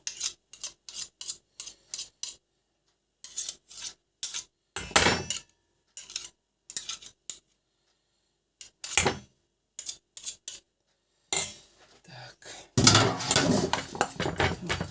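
Pounding something into a paste, probably with a pestle and mortar, in a home kitchen: bursts of sharp knocks and taps in quick clusters, separated by brief pauses, with a longer, rougher grinding stretch at the end.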